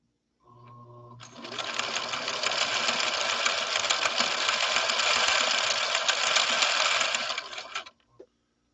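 A 1970s Viking Husqvarna Model 6030 sewing machine runs steadily for about six and a half seconds of continuous close stitching, with a brief whir at the start and a click as it stops.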